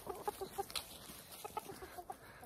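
Laying hens in a backyard flock make soft, quiet clucks and short murmuring calls, a scatter of faint, close sounds with no talking.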